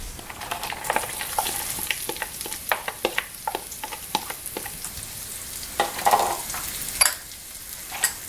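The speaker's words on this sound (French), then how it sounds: "on va mettre l'ail. Et les oignons." Garlic and onions hit a hot pan for vegan tacos, giving a steady close sizzle with irregular crackles and stirring scrapes throughout, no voices.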